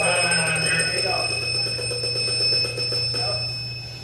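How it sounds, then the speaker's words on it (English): A firefighter's SCBA low air alarm rings steadily at fairly close range, its continuous bell-like tones sounding without pause over a low background hum. "My low air alarm works."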